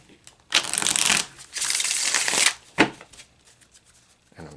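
A deck of oracle cards is shuffled up close in a few quick riffling bursts, crisp and papery, separated by short pauses.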